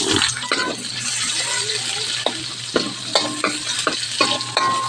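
Garlic and onion frying in chicken oil sizzle close and loud in a pan, broken by repeated scraping and clattering stirs of a spatula.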